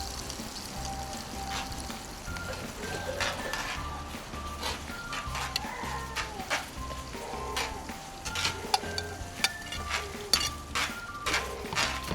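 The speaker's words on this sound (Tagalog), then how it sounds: "Yan na yung ulan." Steady patter of rain on a surface, a continuous hiss with scattered drips, while faint tonal sounds drift in the background.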